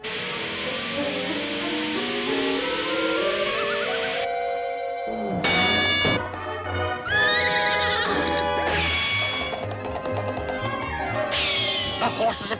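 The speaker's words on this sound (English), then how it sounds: "The horses are coming down a stretch." Cartoon horse race with racehorses neighing and whinnying in high, wavering calls over busy orchestral music and galloping, a long loud mix with scattered squeals and hoofbeat-like rhythm throughout.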